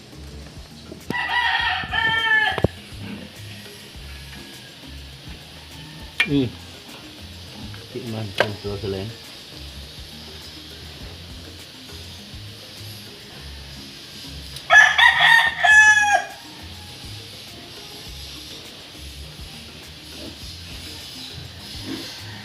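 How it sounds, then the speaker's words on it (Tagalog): Chickens and roosters at a farm in Bacolod, with two loud rooster crows and a few scattered clucks over a quiet background, while people talk briefly in between. "Manok na lang yung ingay ka."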